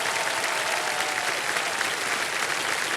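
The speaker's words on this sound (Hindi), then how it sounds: "तालियों के साथ इनका स्वागत किया जाए।" A studio audience at a TV quiz show breaks into steady, sustained applause to welcome a guest, a dense even wash of clapping heard at moderate level with no talking over it.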